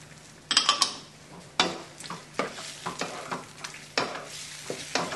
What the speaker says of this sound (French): Je mélange bien et je vais remonter légèrement donc en température pour que la sauce épaississe bien.